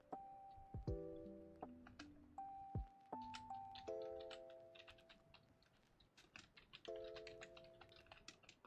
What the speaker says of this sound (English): I don't know if you guys can hear my keyboard.